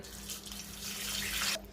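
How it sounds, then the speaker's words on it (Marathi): Water pours into a pressure cooker holding raw mangoes, a short steady splashing stream that rises and then stops abruptly, close and fairly quiet. "इथं मी 1 तांब्या पाणी घातलेलं आहे."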